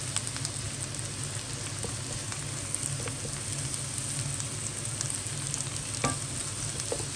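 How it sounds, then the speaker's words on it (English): Steady, dense sizzling of mushrooms frying in a pan, crackling and popping continuously with occasional louder spits, close up and without talking. "There's nothing nicer than the smell, if you like mushrooms, of mushrooms frying."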